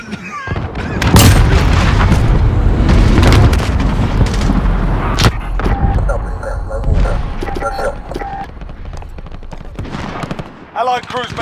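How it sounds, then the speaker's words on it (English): Cruise missile strikes detonate in a Call of Duty Modern Warfare ground war match in Verdansk: heavy rumbling booms roll out over several seconds amid scattered gunfire, loud and close, tapering into lighter crackling shots and distant blasts. "Allied cruise missile away"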